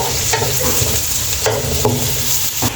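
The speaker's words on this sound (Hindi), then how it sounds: "अब प्याज को हम लोग ब्राउन कर लेंगे।" Two chopped onions browning in a pot for Kabuli pulao, a loud continuous close sizzle broken by sharp scraping strokes of a spoon every second or so, with no voices.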